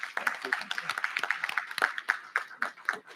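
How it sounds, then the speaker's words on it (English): Applause at a school board meeting: a modest audience claps in a fairly quiet, distinct patter of individual hand claps, somewhat distant in the room. "If we can give her a huge round of applause,"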